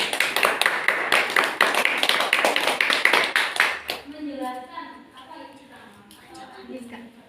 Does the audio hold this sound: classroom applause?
yes